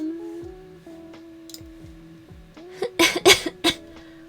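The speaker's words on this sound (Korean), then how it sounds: "아, 기침나." A person coughs several times in a quick, loud cluster near the microphone, over a quiet background of electronic tones from a zombie apocalypse game.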